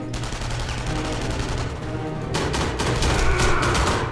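Sustained gunfire from a firefight in the video game Enemy Front, a dense rattle of shots with heavier bursts and booms kicking in near the end, loud and continuous with no talk.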